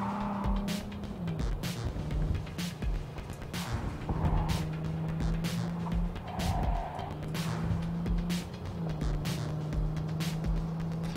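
A car in Cyberpunk 2077 drives and accelerates, engine tone rising and shifting through gears under repeated sharp thuds and impacts, moderately loud and continuous.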